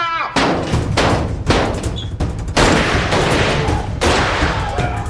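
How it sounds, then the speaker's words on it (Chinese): Gunfire in an action film scene: loud, rapid bursts of shots rattle in quick succession, nearly continuous across the whole stretch with short breaks between volleys. "小周，小周，乱开枪！"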